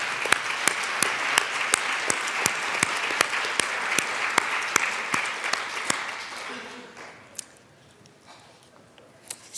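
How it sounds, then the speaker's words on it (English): Lawmakers and guests clap in the Colorado House of Representatives chamber, crisp individual claps ringing out in a brisk round before the applause thins and dies away, leaving a quiet room with faint murmurs. "Give them a round of applause."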